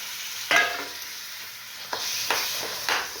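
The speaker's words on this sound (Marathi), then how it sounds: "जो पालक आहे तो पालक मी यामध्ये मस्त मिसळून घेणार आहे घोळून" Spinach being stirred into tomatoes frying in a pan, with salt already added: a steady sizzle underneath sharp scraping stirs, one at the start and three more spaced strokes later, close and fairly loud, with no talking.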